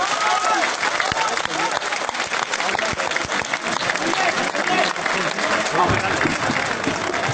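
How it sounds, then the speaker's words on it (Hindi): Dense audience applause fills the whole stretch, a continuous clatter of many hands clapping, with a few voices mixed in. "यहां का एक एक व्यक्ति हाथ उठाकर तालियां बजाकर"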